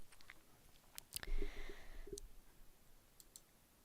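Faint computer mouse clicks sound in a quiet room: a few light taps come close together, then a single click follows about a second later.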